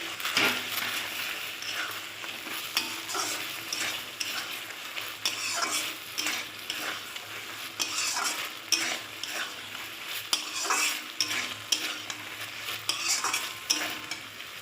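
Fried pointed gourd (potol) being stirred and sautéed in a pan with a milk-cream base, giving a steady close sizzle broken by scraping stirs and light clinks from the utensil.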